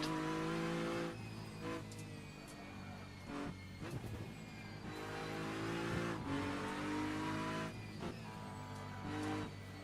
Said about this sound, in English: Gotta love a double downshift.